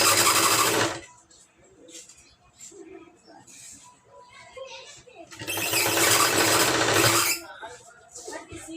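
Sewing machine stitching a lining blouse, running in two loud bursts at the start and again midway, with quiet handling and faint sounds between the runs.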